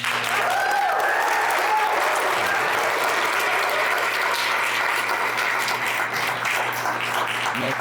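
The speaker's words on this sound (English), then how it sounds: "Please give a big round of applause for Mr. Phil Lyman" An audience at a political event in Utah applauds steadily, a dense wash of clapping that holds loud and even throughout.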